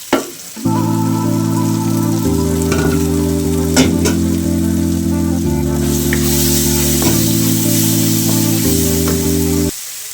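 Tomato frying in a pan with turmeric powder and kasuri methi stirred in gives a steady, loud sizzle and hiss, with occasional scraping stir strokes over a constant tonal hum, close by.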